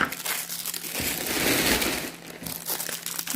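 Plastic packaging from a Shein clothing order being handled, a loud close crinkling and crumpling that rises to a dense rustle midway, then eases back into lighter crackles.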